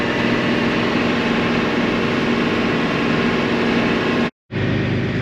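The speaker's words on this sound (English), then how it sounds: "not much noise, just the engine on the tractor" A steady, droning engine rumble runs continuously at close range, broken by one abrupt moment of silence before resuming.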